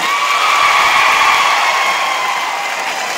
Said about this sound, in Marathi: आता आमचे वरचे टाळ्या वाजवायचा